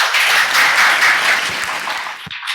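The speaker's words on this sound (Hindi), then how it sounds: "एक बार जोरदार ताली आप सबकी हो जाए।" Crowd at a celebrity meet-and-greet event in Udaipur applauding loudly, a thick burst of many hands clapping close by that thins out and stops after about two seconds.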